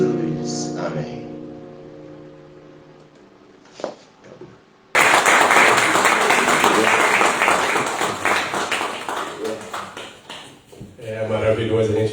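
Loud applause from a church audience bursts in suddenly and continues in a dense, sustained roar of clapping, preceded by softer sung and spoken voices.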